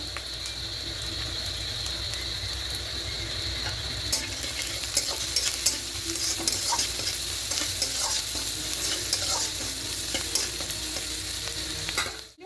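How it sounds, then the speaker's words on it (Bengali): Chopped onion fries with salt in a pan, a loud, steady, close sizzle with faint stirring scrapes throughout and no voices. "পেঁয়াজ একটু হালকা লাল করে ভেজে নেব"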